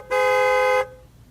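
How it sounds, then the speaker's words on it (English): A car horn blares in a single steady honk lasting under a second, loud and close, then cuts off to quiet. "Somebody is beeping their horn because they are mad about something, right?"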